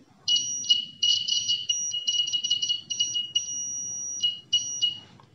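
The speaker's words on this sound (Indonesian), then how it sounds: "Itulah buzzer." Piezo electronic buzzer wired to a battery on a beginner LED, resistor and push-button circuit, sounding a loud high-pitched tone in repeated bursts and longer sustained stretches, alone with faint background hum.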